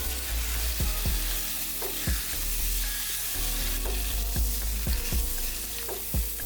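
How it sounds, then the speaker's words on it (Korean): Convenience store chicken pieces sizzle in a sauce-coated pan, a steady frying hiss broken by repeated scraping and stirring knocks, close and clear. "편의점에서 사온 치킨 조각을 소스에 코팅이 되도록 살짝 구워줍니다"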